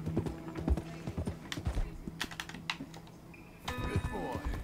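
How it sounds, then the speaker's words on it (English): In Red Dead Redemption 2, a horse is fed amid its clopping hooves and light clicks and taps, with a soft snort or whinny and game sounds; someone talks quietly over it. "Oh, I need to feed my horse."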